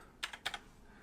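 A computer keyboard tapped in a quick, quiet little burst, two pairs of soft keystrokes close by in an otherwise still room while a room ID is entered.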